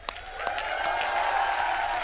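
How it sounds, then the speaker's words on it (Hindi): Applause for Tabu and Parineeti Chopra on a comedy show stage, a studio audience clapping in a steady wash that builds slightly over two seconds, with a faint musical tone underneath. "क्लियरली तब्बू जी के लिए और परिणीति चोपड़ा के लिए जोरदार तालियां हो जाएं।"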